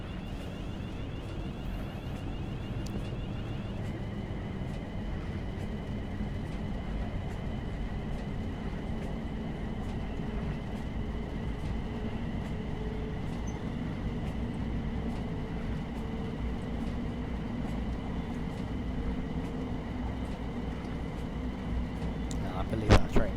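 Desiro City electric train on the Southeastern High Speed line in Train Sim World 3, a steady cab rumble and hum with faint rhythmic clicks running continuously throughout.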